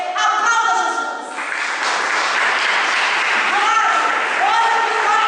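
A church congregation applauds during a Portuguese-language service, a steady wash of clapping that follows a spoken voice at the start and carries through with a few raised voices in the mix.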